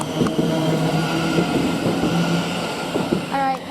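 A Thameslink train at West Hampstead Thameslink station on the Midland Main Line, with steady rumbling rail noise throughout and a brief rising whine near the end, under faint station ambience.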